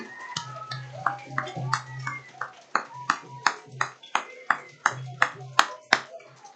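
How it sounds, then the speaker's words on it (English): Audience applause at a 5th grade promotion ceremony for students, heard as a run of sharp, evenly spaced claps with an accented, rhythmic quality over a steady low hum, fairly close and lively. "My students, round of applause to you."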